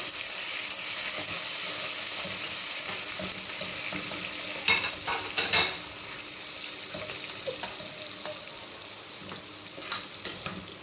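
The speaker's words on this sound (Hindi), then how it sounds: "इसे लाइट गोल्डन फ्राई करेंगे" Onions sizzle and fry steadily in hot oil toward light golden for aloo matar pulao, with occasional stirring scrapes and clatter from a spoon in the pan, close by and fairly loud throughout.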